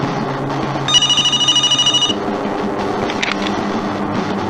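A telephone bell rings in a rapid electronic trill for about a second, sounding over a steady low rumble of background noise, then stops.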